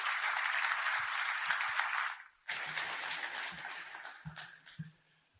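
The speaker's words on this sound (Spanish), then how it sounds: "Un aplauso también para el candidato." Audience at a Chilean presidential debate on transport and mobility applauding a candidate; steady, dense clapping that stops briefly and resumes, with faint low knocks beneath.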